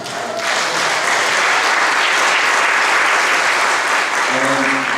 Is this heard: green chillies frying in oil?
no